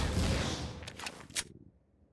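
The Combine cannon in Half-Life 2 lets off a loud, heavy blast that decays over about a second, followed by a couple of sharp clanks and a short tail.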